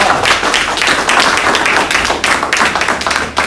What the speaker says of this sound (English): Please give these warriors a round of applause.